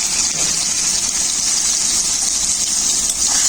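Diced potatoes hit hot oil in a home kitchen, raising a loud, continuous hissing sizzle that stays steady and close throughout, with no voices.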